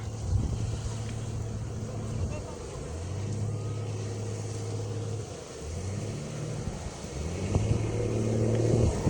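A motorboat's engine drones steadily on open water as it spins in circles. Its pitch rises and falls in repeated swells, heard from a distance under wind, with people talking nearby.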